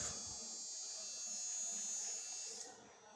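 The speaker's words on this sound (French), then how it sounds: "On alimente la pompe" A small electric water pump in an Arduino-controlled automatic water filling system whirs with a steady high-pitched buzz for about two and a half seconds, then cuts off, faint and close.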